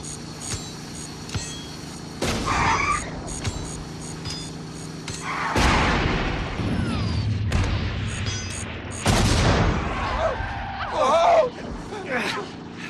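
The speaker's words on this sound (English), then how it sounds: "Grenades!" Grenades explode during a car chase in the 1980 comedy film Herbie Goes Bananas: three heavy bursts about three seconds apart, each followed by rumbling debris over a running engine, with shouting voices in between.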